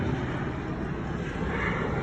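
Steady, loud rotor-and-engine roar of a helicopter, continuous and unbroken, with no talk over it.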